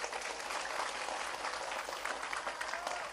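Audience at an evening Quran study session after tarawih prayers claps steadily for about three seconds, a dense even patter of many hands at moderate distance.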